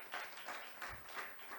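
Audience applause at an open mic night, a brief faint patter of clapping from a modest crowd, heard alone.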